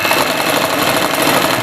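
A black sewing machine runs continuously at a fast, even whirring hum, loud and close with no pauses or voices.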